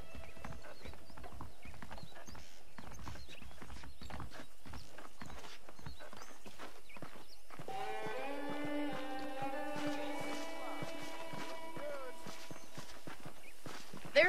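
Horses' hooves clip-clop steadily on the ground in a Western town setting from the video game Red Dead Redemption, close and continuous, with a horse's whinny near the end and a voice talking over it.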